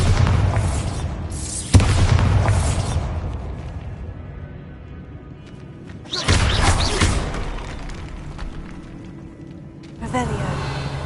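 In the video game Hogwarts Legacy, the Bombarda blast spell sets off heavy booming explosions in a mine, three loud thuds with rumbling decay, mixed with speech.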